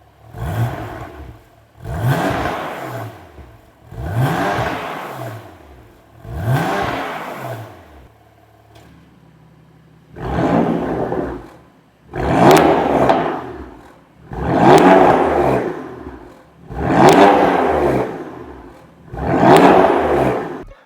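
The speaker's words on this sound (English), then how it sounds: "now I'm going to give the car some revs" A BMW F80/F82 turbo engine with a Milltek equal-length exhaust and valves open revs hard in nine repeated bursts, each rising then falling with a throaty exhaust note, a short pause midway before the revving resumes louder.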